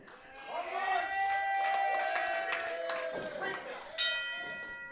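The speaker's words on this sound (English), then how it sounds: "The bell has sounded." A bright ring bell clang rings out over a noisy wrestling arena crowd, its tone ringing on briefly amid cheering and an announcer's voice.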